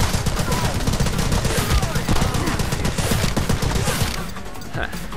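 Rapid bursts of video game gunfire, including sniper shots, crackle almost continuously in a loud, dense stream over several seconds, with explosive impacts mixed in and a brief easing near the end.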